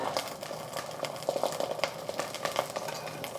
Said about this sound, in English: The sizzling is just from the heat of the pot.